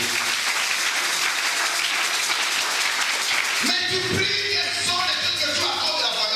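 A crowd claps hands in steady, dense applause, a bright continuous patter that runs through the whole stretch, with a voice speaking over it in the second half.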